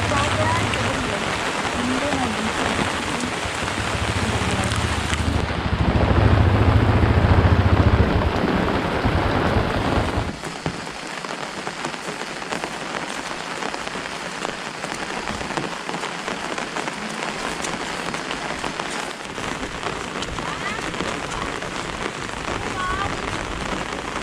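Steady rain falling and pattering on surfaces outdoors in Barangay Batasan, with a heavier, louder stretch early on and then an even downpour, and voices talking underneath.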